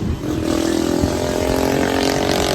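A motorcycle engine hums steadily while riding on a mountain road near Tanay, Rizal, with a close, continuous drone and wind rush.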